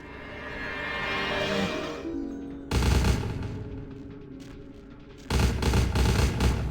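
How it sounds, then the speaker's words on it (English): Gunfire and bullets in Vampire: The Masquerade - Bloodlines, loud and dense, with bursts of shots and impacts that swell and cut off sharply, then return in a heavy volley near the end. "I'm dodging these bullets"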